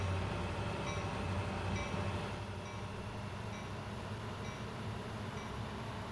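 A train in the Train Sim World video game rumbles steadily with a low, constant drone and faint rhythmic clicks, no voices, even and unbroken throughout.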